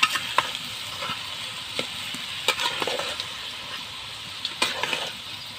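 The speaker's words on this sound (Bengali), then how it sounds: "এবার এগুলো লাড়া চাড়া দা ভালোভাবে কষাইতে হইব" Potatoes stirred and fried in a pan, a continuous close sizzle broken by scattered clicks and scrapes of the spatula against the metal, with no one speaking.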